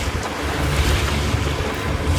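A sailboat motoring at 3,000 revs around 5.5 knots at dawn, heading toward Island Head Creek, with constant wind buffeting the microphone over rushing waves and a low engine rumble, no talking.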